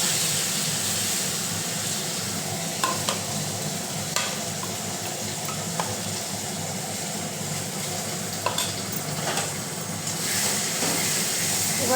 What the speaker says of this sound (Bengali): এবার কড়াইতে তেল গরম হয়ে গেছে। এবার দিয়ে দিচ্ছি নুন, হলুদ, কাশ্মীরি লঙ্কা গুঁড়ো